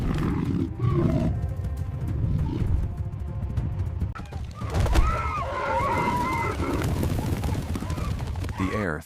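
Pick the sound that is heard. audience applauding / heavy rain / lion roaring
lion roaring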